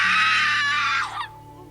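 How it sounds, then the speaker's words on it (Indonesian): A woman's loud, sustained scream in a horror story, shrill and piercing for about a second before cutting off abruptly, leaving a low quiet hum. "Terdengar suara jeritan seorang wanita, kencang sekali"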